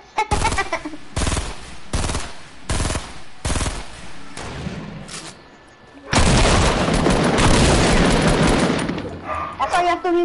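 Gunfire from the Fortnite video game: several loud separate shots and short bursts, then a sustained rapid burst of automatic fire, heard up close with no talking.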